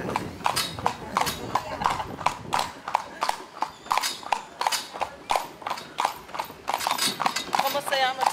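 A horse's hooves clip-clop in a steady, close walking rhythm on a hard surface, continuing throughout under a man's conversational speech.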